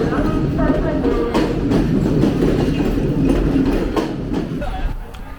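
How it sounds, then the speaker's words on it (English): Passenger train on the Colombo to Galle coastal railway pulling into a station, a steady loud rumble with rail clatter under platform chatter and crowd noise throughout. "And here comes my train."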